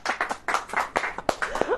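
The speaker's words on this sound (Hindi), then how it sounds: "अब ताली बजाओ।" A church congregation claps along during a sermon, with about eight quick, rhythmic hand claps in a row, close and fairly crisp.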